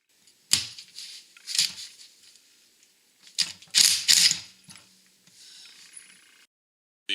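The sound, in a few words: tightening specialty puller to pull pulley off shaft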